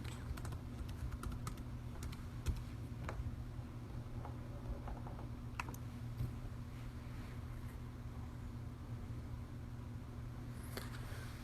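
A password is typed on a computer keyboard, producing sparse, faint key clicks scattered over a steady low background hum.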